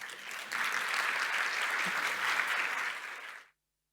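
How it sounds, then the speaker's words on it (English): Audience applause follows a conference talk on internet accessibility, a steady sustained clapping crowd at moderate distance that swells, holds for about three seconds and then stops abruptly. "Give a round of applause."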